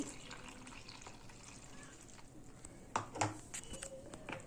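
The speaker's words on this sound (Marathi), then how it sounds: "त्याच कपने मी 1 कप पाणी इथे टाकते" A cup of water poured into gram flour for boondi batter, a faint splash and trickle in a quiet kitchen followed by a few louder knocks and clinks near the end.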